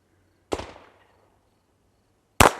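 Two sharp, loud reports from a single-shot .22 rifle with a set trigger, about two seconds apart, the first trailing off in a short echo, with no talk.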